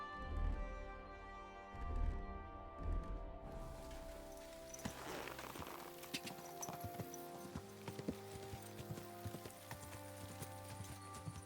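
Horse hooves clip-clopping in Kingdom Come: Deliverance II, a few heavy thuds at first, then a quick, steady run of hoofbeats over a musical background, fairly close and moderately loud.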